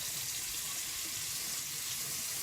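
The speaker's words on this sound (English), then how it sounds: "I'm going to put my tap on all the way cold and fill it up with cold water" Cold water pours from a kitchen tap opened all the way, a steady even rush of hiss and splash running without a break for a couple of seconds, fairly close, with no voices.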